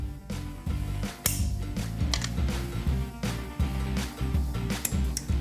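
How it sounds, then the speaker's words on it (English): Torque wrench clicking as push bar bolts on a General Lee car are tightened, a run of sharp mechanical clicks and ratcheting over a low hum, close and fairly loud, with no talk. "Get the torque wrench out for maximum torquage."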